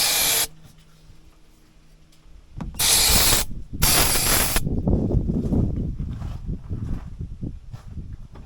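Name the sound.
squirting starting spray into truck engine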